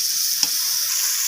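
Fried potato and eggplant sizzle steadily in a pan with salt as a spatula stirs through them, giving one brief scrape over the continuous hiss of frying, with no voices.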